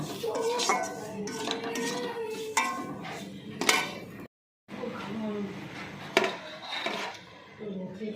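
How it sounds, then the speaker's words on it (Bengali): A spoon clinks and scrapes against a bowl while turmeric, cumin powder, salt, mint leaves and chaat masala are mixed together. The close, irregular clatter has a brief silent gap, and a voice talks over parts of it. "হলুদের গুঁড়ো জিরে গুঁড়ো লবণ পুদিনা পাতা আর দিয়ে দিচ্ছি চাট মশলা দিয়ে একসঙ্গে মিশিয়ে নিলাম"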